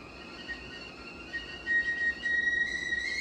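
A teapot whistles as water boils for tea, its thin high tone rising and steadying over a low background hum, fairly faint and with no one talking.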